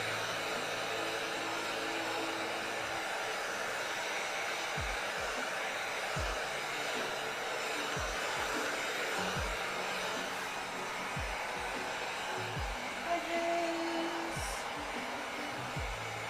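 A heat gun runs steadily on armor pieces made of Worbla-type thermoplastic during a Monster Hunter Rise Barioth cosplay build, a constant airy blowing hiss throughout with faint soft thumps underneath.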